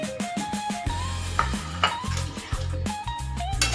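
A spoon stirs coarse cracked wheat lapshi and sliced coconut in a pot, scraping and clinking in quick repeated strokes up close, with a faint sizzle beneath.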